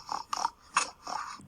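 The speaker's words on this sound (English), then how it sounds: "Mr. Wolf hears a snort," Four short, breathy snorts spaced about a third of a second apart, close and fairly quiet, with no other sounds around them.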